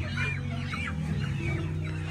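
Chickens clucking in a group just before slaughter on a small poultry farm, several soft overlapping clucks and calls over a steady low hum, close and moderately loud.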